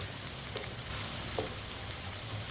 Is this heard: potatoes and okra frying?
yes